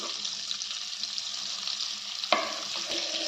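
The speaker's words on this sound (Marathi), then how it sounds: "आता हे बटर मेल्ट झालं आहे." Butter with a little oil melts in a hot pan, hissing in a close, continuous sizzle broken by a couple of brief sharp pops near the end.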